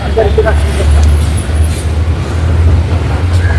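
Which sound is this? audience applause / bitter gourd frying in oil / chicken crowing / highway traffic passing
highway traffic passing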